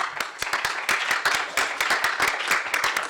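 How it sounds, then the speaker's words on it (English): A small audience at a student election vice-presidential debate claps after a candidate finishes, a moderate close-up patter of individual distinct claps that stays steady throughout. "Let's give a big round of applause."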